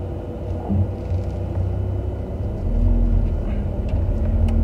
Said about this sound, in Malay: Ada kereta nak lalu.